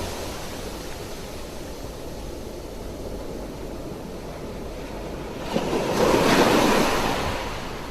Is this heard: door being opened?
no